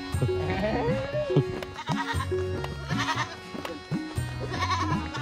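Several goats bleat close by, wavering calls overlapping and repeating one after another.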